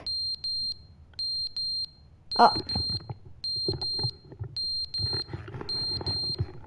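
A high electronic alarm beeps in repeated bursts of quick pulses in the video game The Stanley Parable, with a brief exclamation and some clattering and rustling mixed in.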